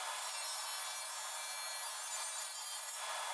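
Steady back-and-forth hand sawing of a notch in the wooden clamp of a workbench leg vise, a continuous raspy scraping at even loudness throughout, close by and with no voices.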